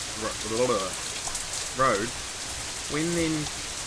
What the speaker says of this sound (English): Raindrops leave tiny dots on the black asphalt road